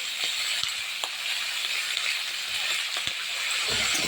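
Flat beans, radish and small puti fish cook in a pan for a curry, giving a loud, continuous sizzling hiss with occasional soft knocks from stirring.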